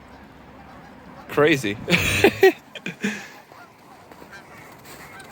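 Geese honking by a riverside, with a few ducks mixed in: a loud cluster of nasal honks close by for about a second and a half, then scattered calls trailing off, with a person speaking briefly among them.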